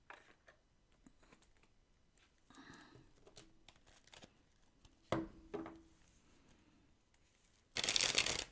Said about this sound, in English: I'm shuffling the wrong deck, aren't I? I'm supposed to be shuffling these ones.